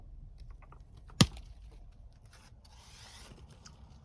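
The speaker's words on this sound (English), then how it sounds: "we're gonna make the cut right about there and get rid of all of this foliage right there" A large branch with its foliage is cut from a bonsai tree, giving one sharp, close snap in otherwise quiet surroundings.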